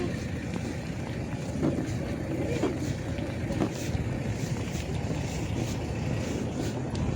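Steady, blustery wind roars across the microphone, a continuous rough rush with occasional gusts and no voices.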